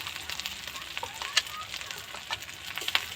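Spice paste with ginger-garlic paste sizzles in a pan for a bhola fish curry, crackling in quick irregular bursts as it is stirred, close and moderately quiet, with no speech.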